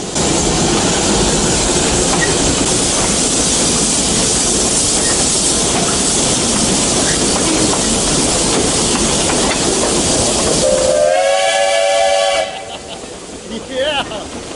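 A 100-year-old steam train chugs and hisses loudly and steadily, then a shrill whistle blasts near the end as the rumble drops away.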